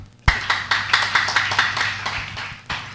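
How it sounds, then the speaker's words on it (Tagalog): Congregation clapping along in a church service, a rhythmic burst of hand claps at a steady beat, fairly close and lively, fading slightly toward the end. "Palakpakan po natin ang ating pinakamamahal na Panginoon."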